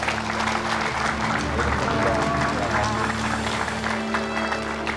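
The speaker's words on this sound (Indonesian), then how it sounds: "Boleh tepuk tangan." Studio audience clapping on a television religious talk show, a brisk, even wash of applause held at a steady level throughout, with a low hum underneath.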